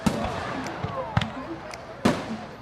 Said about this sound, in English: that was not a battlefield explosion, but fireworks during Chinese New Year celebrations